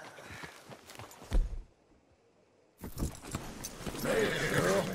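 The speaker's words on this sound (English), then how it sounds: "Hitch your horse up here." In the video game Red Dead Redemption 2, a horse's hooves clop and thud nearby, a brief quiet falls, then the horse lets out a clear, wavering neigh amid shuffling movement.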